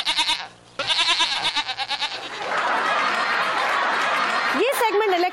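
A goat bleats loudly and close in a television comedy segment, with speech and laughter mixed around the repeated calls.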